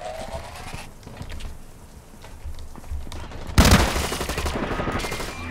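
Bursts of gunfire from the first-person shooter Blacklight Retribution: quiet, scattered shots at first, then a sudden loud, sharp blast near the middle that gives way to sustained rapid fire to the end.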